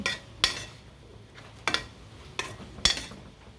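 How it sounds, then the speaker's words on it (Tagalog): Utensil scraping and clinking against a pan while stirring hotdog with margarine and seasoning, four sharp metallic knocks spaced through a faint kitchen background. "Haluin."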